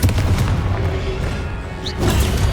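A Confringo explosive spell goes off in the Hogwarts Legacy video game as a loud, rumbling boom, with a second heavy burst following shortly after.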